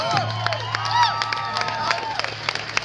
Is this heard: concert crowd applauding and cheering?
yes